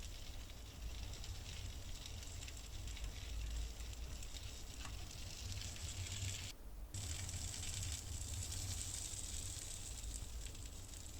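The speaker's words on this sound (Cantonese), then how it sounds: "咁煎香咗個芋頭糕咧" Taro cake slices pan-frying in a little oil in a wok, a steady close crackling sizzle that runs unbroken with a brief dropout midway, no voices.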